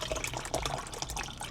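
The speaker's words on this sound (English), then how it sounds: "I got my water right here. Put it in the shaker cup." Water being poured into a plastic shaker cup, a continuous splashing, gurgling fill heard close by for about a second and a half, with no talking over it.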